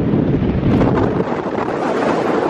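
Strong gusting wind on the exposed summit of Ben Hope in Scotland, roaring and buffeting the microphone in a loud, continuous rumble with no voices.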